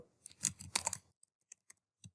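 Keys tap on a computer keyboard while entering an admin login in QuickBooks Desktop Enterprise, a quick cluster of clicks followed by a few sparse, separate keystrokes, close and crisp.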